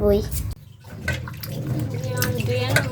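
Hot water pours and splashes onto soybeans in a kitchen, a steady rushing gush that pauses briefly and then resumes, close and fairly loud.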